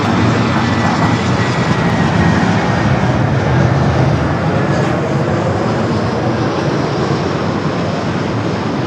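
A large airliner on final approach to runway 24 right at Los Angeles International Airport produces a loud, steady jet engine roar that fills the whole stretch with dense broadband rumble, holding constant without pause.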